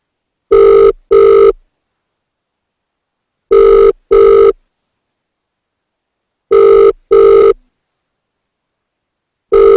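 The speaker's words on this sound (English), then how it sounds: "So we will give Bill a call here." A telephone rings through a call: three loud double rings, evenly spaced about three seconds apart, with silence between them and a fourth ring starting at the end.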